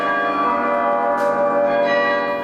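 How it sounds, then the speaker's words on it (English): University of Chicago carillon bells ring out in a sustained, resonant peal of overlapping tones that hold steady and loud throughout, with no voices. "a warrior who knows how to ring the bells"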